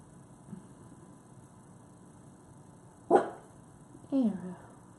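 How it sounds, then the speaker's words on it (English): A dog gives two short, sharp barks a second apart over a quiet room tone, the first louder and abrupt, the second a slightly longer yelping bark. "What's his deal with barking?"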